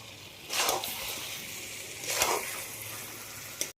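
Food frying in a pan gives a faint, steady sizzle, with two louder hissing bursts as it is stirred and a short clatter at the very end.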